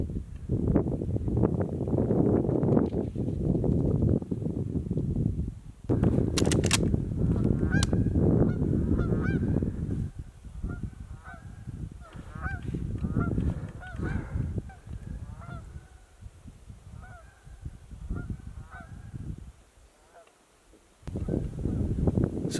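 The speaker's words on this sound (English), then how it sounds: "So basically, the geese just came back." A flock of geese honking at a bushcraft camp, repeated overlapping calls at moderate distance, coming in bursts over rustling and wind, with a stretch of quiet near the end.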